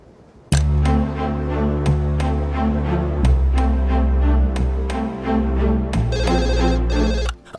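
A phone ringtone plays loudly and clearly, a repeating melodic tune with sharp regular beats, cutting off abruptly at the end.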